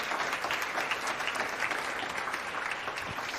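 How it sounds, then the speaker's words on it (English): At the BUFTA awards ceremony, a crowd applauds a singer-songwriter with steady, sustained clapping that fills the room evenly at moderate volume. "Ladies and gentlemen, another round of applause for our singer-songwriter tonight."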